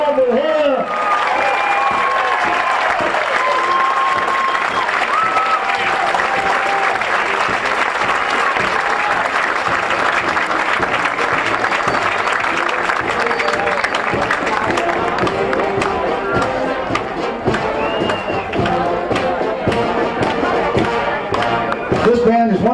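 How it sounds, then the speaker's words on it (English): Outdoor crowd applause for the Concert Band of Cobourg at the Battle of Plattsburgh parade, steady clapping running throughout under loud talk and crowd noise. "Let's give them a round of applause"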